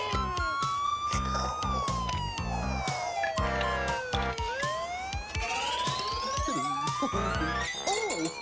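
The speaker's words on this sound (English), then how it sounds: "That's the toy ambulance." A toy ambulance siren wails with rising and falling electronic tones over a busy children's-show music bed with jingling and rhythmic thumps, loud and continuous throughout.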